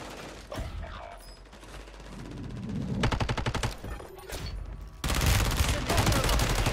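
Rapid bursts of automatic gunfire in Call of Duty Warzone 3, dense overlapping shots that intensify toward the end, with a few quieter gaps between volleys.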